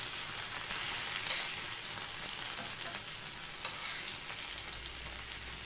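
Ivy gourd (kovakkai) sizzles and crackles steadily in a hot pan, a continuous bright frying hiss with faint stirring scrapes, close up.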